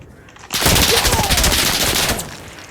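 Automatic gunfire in the shooter game Insurgency: Sandstorm, one dense rapid burst of loud shots lasting under two seconds after a brief quiet start.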